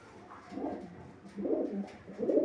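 Soft, low coos from sick pigeons repeating in a few throaty phrases, close by and fairly quiet.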